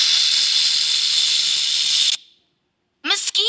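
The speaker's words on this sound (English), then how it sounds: "Snake." A snake gives a loud, sustained hiss for about two seconds that cuts off abruptly, followed by silence and then a brief spoken word.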